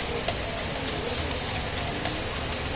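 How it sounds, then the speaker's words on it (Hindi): Rain falls steadily in Ajmer, Rajasthan, giving a continuous soft hiss of drops on surfaces with a few sharper patters standing out. "ये अजमेर में तो हमारा स्वागत ही बारिश से कर दिया,"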